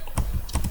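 Computer keyboard typing, a few quick key clicks in a short uneven burst, close and moderately loud without speech.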